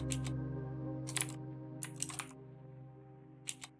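Mechanical keyboard typing simulated by Mechvibes software: a few sparse clusters of crisp key clicks over a low steady background hum, fairly quiet and irregular.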